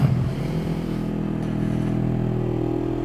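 A Honda CB500S motorcycle engine pulls steadily under acceleration, a continuous close droning growl that holds an even level throughout with no speech.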